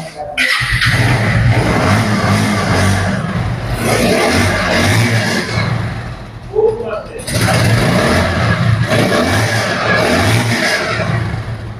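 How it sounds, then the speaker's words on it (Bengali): A lightly used motorcycle with about 3,260 km on the meter revs loudly in two long bursts separated by a brief dip, the idle chugging low beneath the roar. "দেখুন দেখো বাইকটির সাউন্ড"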